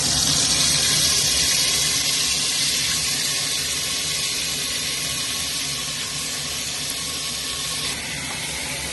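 Chicken pieces frying in hot oil in a pot for chicken biryani, giving a steady, fairly loud sizzling hiss with broadband crackle that holds evenly throughout and eases slightly near the end, with no talking.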